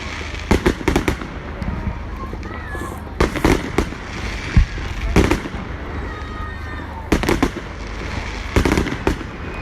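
Bonfire Night fireworks at Manor Fields: repeated loud bursts and crackling volleys in clusters, some rapid strings of pops, others single booms, with faint crowd murmur between them.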